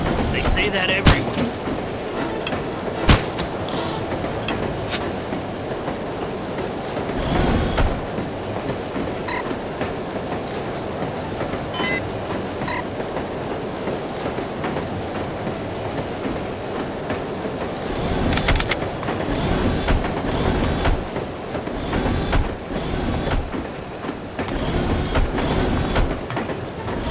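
Train carriage clattering along rails in the video game The Operative: No One Lives Forever, a continuous rumbling rattle with rhythmic clacks and occasional squeals, loud and steady throughout, with voices briefly heard over it.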